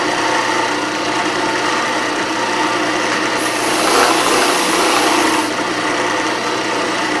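A 42-inch deluxe belt sander with a cloth belt grinds down a golf club ferrule, giving a loud, continuous motor whir and abrasive rasp that swells slightly midway as pressure changes, with no talking.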